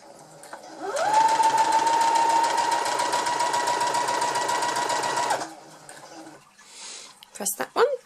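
A Brother FS40 sewing machine stitches fabric in one steady, rapid whirring run of about four seconds that stops abruptly, followed by a few soft handling clicks and a brief voice.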